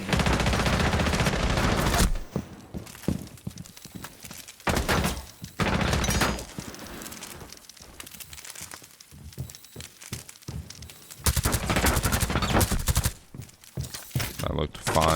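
Video game gunfire in loud rapid bursts and sustained volleys separated by short quiet gaps, with thuds and impacts mixed in under a voice talking.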